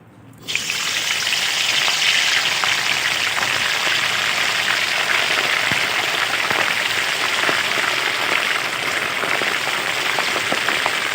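Crocodile cartilage, marinated, deep-frying in hot oil, a loud, steady, dense crackle and sizzle that starts abruptly and continues evenly throughout, with no talking.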